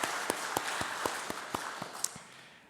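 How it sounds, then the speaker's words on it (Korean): A church congregation claps to encourage the choir during a Sunday service, a faint, steady patter of hands with soft regular peaks and no talking over it. "우리 찬양대를 격려하는 박수를 한번 보내주시기를 바랍니다"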